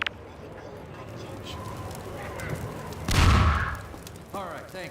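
A grenade blast in the Half-Life 2 game: one heavy, booming burst lands about three seconds in over a steady rumble of ambient noise, with a short rattling sound near the end.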